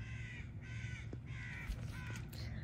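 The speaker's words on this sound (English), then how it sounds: "The crows are quite loud this morning. They are crowing." Crows cawing repeatedly in the morning outdoors near a tree, loud harsh calls in several bursts over steady low background rumble.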